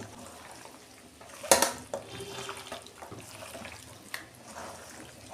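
Raw marinated mutton is worked by hand with ginger, garlic and green chili paste and whole garlic cloves, giving soft, wet squelching and handling noises with one sharper knock, close and fairly quiet.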